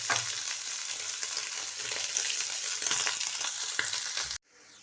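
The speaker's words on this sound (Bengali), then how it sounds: "এবারে দিয়ে দিচ্ছি সেদ্ধ করা সয়াবিনের কিমা।" Boiled soybean mince frying in a pan with fried onions gives a loud, steady close sizzle with faint stirring scrapes, then cuts off abruptly near the end.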